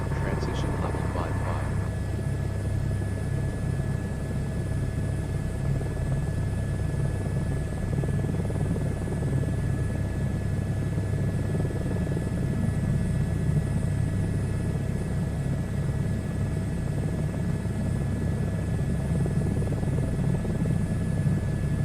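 A helicopter flies in a VR flight simulator game at about 5:30 in the afternoon. Its rotor and engine give a steady, loud, continuous whirring drone, with a faint brief blip near the start.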